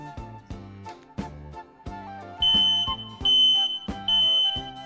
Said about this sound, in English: As soon as that is detected, the alarm will go off and alert anyone in the area.